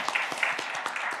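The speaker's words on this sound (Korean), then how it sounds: "큰 박수 한번 좀 보내주시죠" An audience at the 70th anniversary ceremony of the Korea National Council on Social Welfare claps in a brief burst of dense, even applause, with no voices over it.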